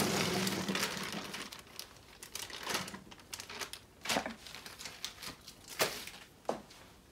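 A plastic bag of fresh cranberries is opened, giving quiet crinkling and rustling with scattered sharp crackles and taps, close up and without talk.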